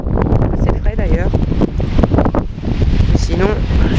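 Strong, fairly cool southerly wind at the seashore in Saint-Malo, France, in mid-November, buffeting the microphone as a loud, continuous rumble with someone talking over it throughout.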